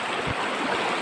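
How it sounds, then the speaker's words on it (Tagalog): A strong river current at Dapia Stone River in Cabangan, Zambales rushes with a dense, steady broadband roar, close and loud throughout. "Ang lakas nitong tubig."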